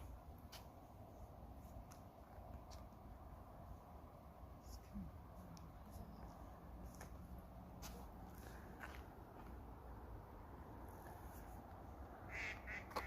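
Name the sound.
duck quacking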